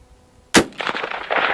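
A single sharp gunshot from a Winchester 1894 lever-action rifle fired outdoors, loud and close, with a burst of reverberant echo rolling on for about a second afterward.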